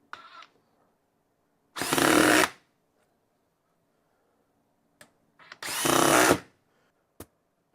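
A DeWALT DCF870 quiet hydraulic impact driver fires in two bursts of under a second each, a mellow, dense whirring with a few small clicks and taps between, close and otherwise quiet.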